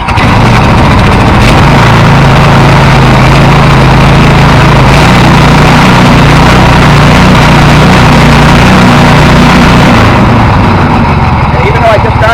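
A Predator small engine from Harbor Freight mounted on a tractor, running loud and close after starting and settling into a steady idle rumble throughout.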